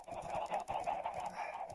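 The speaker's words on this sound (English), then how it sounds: "Oh, he's got a chicken zombie!" Minecraft chicken jockey zombie clucking, a short run of nasal, honking bird calls in quick irregular bursts, close and fairly loud with no talking.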